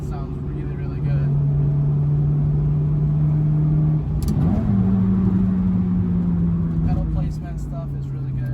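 A Honda K24 engine in an Accord Euro R revs out loudly, a strong steady drone that climbs, dips briefly during a shift, then holds and slowly falls; a voice talks over it.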